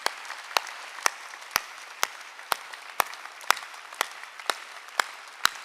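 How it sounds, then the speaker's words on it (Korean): A congregation at a Korean church Sunday worship service claps in unison: sharp, evenly spaced beats about twice a second, steady and moderately loud over a quiet room. "박수 치려면 치고 말고."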